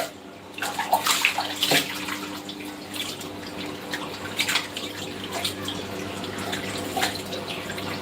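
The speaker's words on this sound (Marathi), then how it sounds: "तरी परत एकदा आपण एका पाण्याने धुवून घेऊया" Running water splashes and sloshes as tripe is rinsed by hand, with irregular bursts of churning and dripping, close and fairly loud, no talk.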